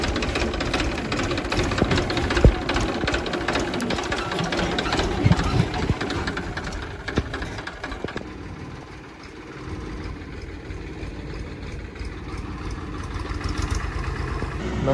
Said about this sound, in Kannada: ನಮ್ಮ ಅಣ್ಣ ಟ್ರ್ಯಾಕ್ಟರ್ ಹೊಡಿತಾವನೆ